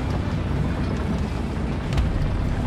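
A tank engine in the War Thunder game drones as a steady, loud low rumble with a rough, wind-like hiss, continuous and unchanging for the whole stretch, with no talking.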